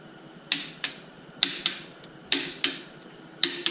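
A torque wrench tightens bolts on a rebuilt junkyard Jeep 4.0 engine to 45 foot-pounds, with sharp, close clicks arriving in quick pairs, about eight in all, over a quiet workshop background.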